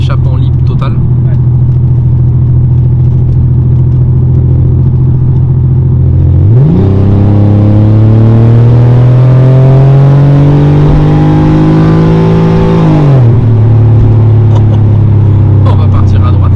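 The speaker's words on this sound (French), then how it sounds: "on est en échappement libre total" Porsche 911 with a fully open straight exhaust idles loudly, then revs up hard for several seconds with a rising, held engine note before dropping back to idle; people talk over it.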